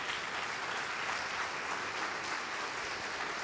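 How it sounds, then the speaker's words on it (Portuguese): A church congregation applauding together during a service, dense sustained clapping filling the room without a break. "Vamos aplaudir ao nome do Senhor."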